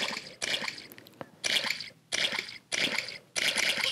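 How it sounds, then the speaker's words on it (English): Repeated splashing in muddy puddles in a Peppa Pig video game, with about six bursts of wet splatter in a rapid, uneven rhythm separated by short quieter gaps, close and moderately loud. "Splash in the muddy puddles."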